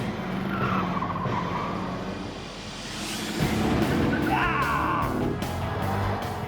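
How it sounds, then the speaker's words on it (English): A car driven fast through a course of traffic cones on a test track, its engine roaring as the tires squeal and skid loudly in long sweeping screeches, heard close. "Right from the get-go, Jamie sets a cracking pace through the traffic cones."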